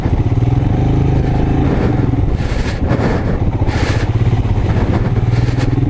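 A Royal Enfield Himalayan motorcycle runs steadily off-road over loose ground, its close, continuous engine loud and held at high revs, with rattling and clatter from the terrain throughout.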